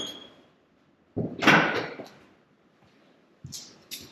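The rear liftgate of a Ford Excursion unlatches with a click and swings open with a brief rattling whoosh, followed by a couple of faint knocks nearby.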